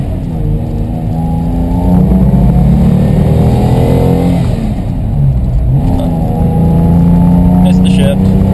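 The engine of a modified 1990 Isuzu Trooper revs up and down loudly from inside the vehicle, rising and falling through a missed gear shift, with a voice speaking over it.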